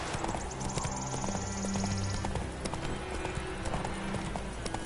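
Roach the horse clip-clopping in The Witcher 3, a steady run of hoof strikes on hard ground with a brief whinny, while voices talk over the hoofbeats.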